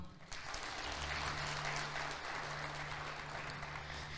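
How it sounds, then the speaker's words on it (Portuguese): A church congregation applauds during a service, a steady wash of clapping that lasts throughout, fairly soft and distant over a low hum. "Dá mais um aplauso ao Senhor."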